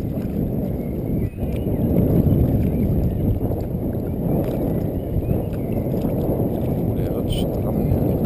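Strong wind roars and buffets the microphone while someone paddles an inflatable Makaio Kula-Nui stand-up paddleboard on Rummelsburger See, a constant loud rumble with no pauses.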